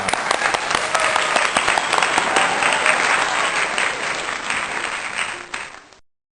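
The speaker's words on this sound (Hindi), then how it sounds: "तालियां।" Congregation applause during an Easter worship service in a church, loud sustained clapping from many people filling the hall for about six seconds before cutting off abruptly.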